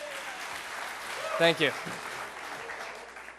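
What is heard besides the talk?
audience applause at Les Paul tribute event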